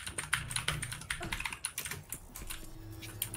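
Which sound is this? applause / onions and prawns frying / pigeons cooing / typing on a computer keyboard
typing on a computer keyboard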